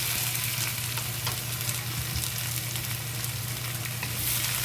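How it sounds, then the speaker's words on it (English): Tomato fries in a pan for a Chinese stir-fry with scrambled eggs, a steady close sizzle and crackle with a low hum underneath. "Then fry the tomato."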